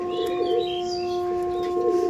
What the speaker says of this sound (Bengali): এটা ছিল নর পায়রা